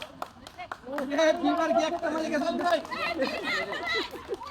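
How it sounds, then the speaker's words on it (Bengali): Clapping and excited voices from a small crowd greet the winner of a blindfolded game of crossing a path to grab a prize of detergent powder; the clapping is loud and close, and people talk and cheer over it throughout. "তার জন্য একটা তালি হবে তালি"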